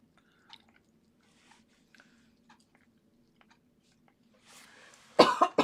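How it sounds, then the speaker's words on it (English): A quiet stretch of faint clicks and low hum, then a few harsh, loud coughs burst out close by at the very end. "My cough is picking up speed"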